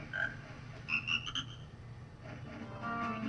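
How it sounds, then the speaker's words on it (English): Croaking frog song from the Snowhead area of a Zelda video game, a few faint, tonal chirping notes heard at a distance over a low background hum. "you can still hear the little frog song from over here"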